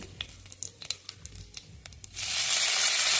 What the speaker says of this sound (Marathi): तेल गरम झाले आहे त्यामध्ये जिरे मोहरी